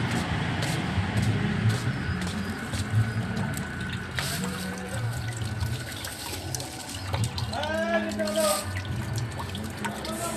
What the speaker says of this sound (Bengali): জলটা আমি একটু আসতেই ছেড়ে দিয়ে দিয়েছিলাম, নাহলে বালতি লোড হয়ে যেত